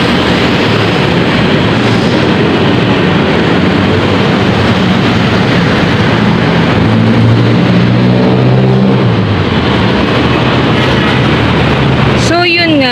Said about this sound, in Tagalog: Ayan na, ang daming motor guys